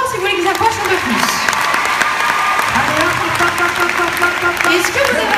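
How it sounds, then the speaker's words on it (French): A studio audience at a televised dance competition claps loudly and continuously, a dense, even roar of applause throughout, with a presenter's voice speaking over it. "Veuillez l'applaudir très très fort si vous voulez qu'ils approchent un peu plus."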